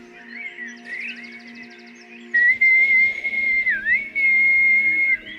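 A high-pitched whistle holds a thin, sustained tone, wavering slightly at first, then growing louder and steadier with a brief downward bend before settling again.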